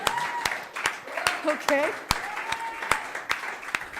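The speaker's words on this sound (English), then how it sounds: "let's have a big round of applause" An audience at a game awards ceremony claps in sharp, scattered bursts while a voice speaks briefly over the applause.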